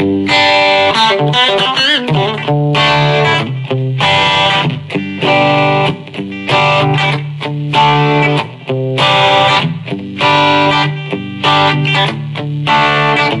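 Electric guitar through a Boss eBand JS-10 with reverb, playing a rock tone, chords and single notes ringing out in phrases, loud and close with no talking.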